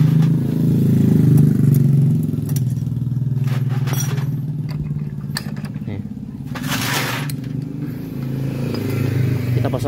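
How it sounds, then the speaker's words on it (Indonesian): A motorcycle engine idles with its pulley removed, giving a steady, rough low rumble that carries through the whole stretch, with faint clatter on top. "sekarang kita mencoba untuk menghidupkan motornya tanpa puli ya, tanpa puli"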